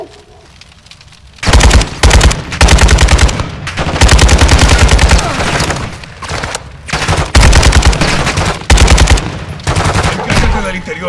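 Gunfire in the Modern Warfare 2 campaign, with loud, sustained automatic bursts that rattle almost continuously for most of the stretch after a quieter opening, broken only by brief pauses.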